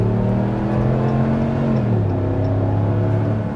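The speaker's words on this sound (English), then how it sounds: "We'll open her up a little bit more on the gas." A Ram 1500 pickup truck accelerates with a steady engine drone, its pitch dipping as the gear changes, then holding on a lower, continuous hum.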